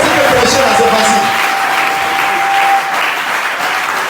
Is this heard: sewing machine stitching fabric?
no